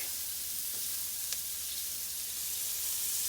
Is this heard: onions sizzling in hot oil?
yes